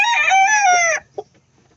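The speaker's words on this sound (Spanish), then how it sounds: "Voy a tratar de no hablar mucho para que ustedes observen el interés de estas gallinas." A hen near a nesting box gives one loud, drawn-out, rising-and-falling call close by, followed by a brief soft cluck and then quiet.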